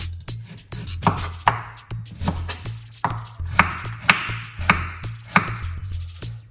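Ginger is chopped with a knife on a cutting board in a steady run of sharp, close knocks, roughly two strikes per second, with no talking.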